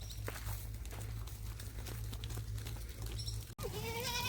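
A flock of about 500 sheep and goats driven from Kutch to Gir moves past with steady shuffling hooves and scattered bleats, and one clear, close bleat rises near the end.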